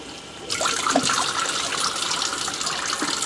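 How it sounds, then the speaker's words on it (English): Tap water gushes steadily into the HyperChiller for a rinse, a loud, close, continuous splashing rush that starts abruptly and carries on alone. "Just run some water in there."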